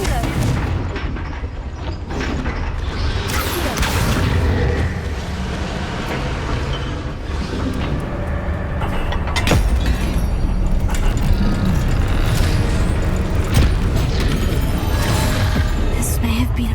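Confringo fire spells explode in the video game Hogwarts Legacy, a dense run of booming blasts and crackling impacts over rumbling battle noise and music that grows louder midway, with no talking.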